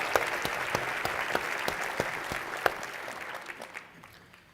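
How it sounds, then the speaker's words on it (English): Sustained applause from a large audience of about a thousand people at a charity luncheon, many hands clapping densely with a few sharper claps standing out, then thinning and fading toward the end. "Please give her a round of applause."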